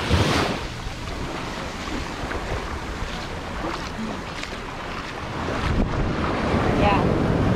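High-tide waves at Cane Garden Bay, Tortola wash far up the beach in a steady, loud surf roar, with heavy wind buffeting the microphone throughout.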